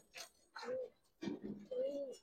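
Khaki and silver Giribaz pigeons coo in a loft, with several soft, low, rolling calls coming in short bursts close by.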